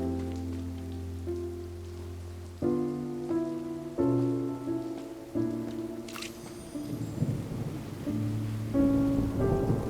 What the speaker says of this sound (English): It's raining! Oh no, Paimon forgot to bring an umbrella!